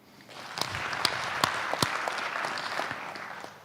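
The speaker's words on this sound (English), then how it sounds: "And for that, they deserve a clap." Applause for startup founders at the Next Frontier Africa Summit 2025, a steady round of clapping from an audience in a hall, moderately loud with a few sharper individual claps standing out, fading at the end.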